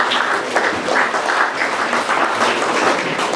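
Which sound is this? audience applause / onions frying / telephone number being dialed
audience applause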